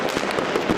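Fireworks burst over Lima at Christmas in a dense, continuous crackle with repeated soft thuds, heard from a distance as a steady wash of explosions.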